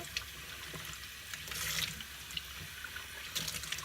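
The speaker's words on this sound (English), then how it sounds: "So I'm going to go ahead and rinse it." Dyed wool yarn is rinsed under running water in a kitchen, giving a steady, close splashing stream with brief louder surges as the yarn is moved.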